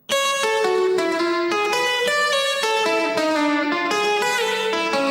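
A bright electric guitar plays a quick rockabilly blues lick of plucked notes with ringing sustain, clear and close, with no voices.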